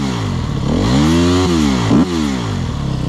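A nearby enduro motorcycle running a stock silencer revs up and down in smooth swells, rising and falling twice over a buzzing idle.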